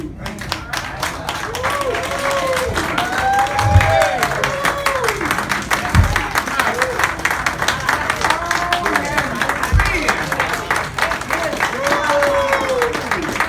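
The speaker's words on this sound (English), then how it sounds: "Let's continue that round of applause" Applause from a crowd at a Juneteenth celebration, a steady broad patter of many hands clapping throughout, with scattered voices and cheering mixed in.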